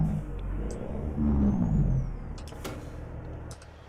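A heavy truck engine drones steadily in the video game American Truck Simulator, swelling in a brief rev before settling back to a low rumble, with faint clicks and hisses on top.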